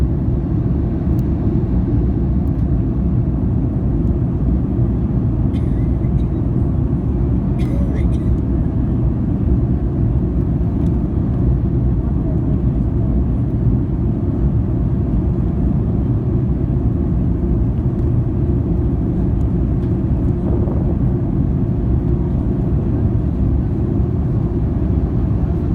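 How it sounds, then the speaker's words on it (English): Steady, loud low cabin roar of a Mahan Air Airbus A310-304 in flight with spoilers deployed, a constant broadband rumble filling the whole stretch with faint intermittent clicks above it. "Love this feeling when the spoilers come out in flight."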